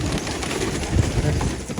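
Tumbler pigeons coo softly at close range during a short burst, with light rustling that may be wing flaps and a faint voice in the background.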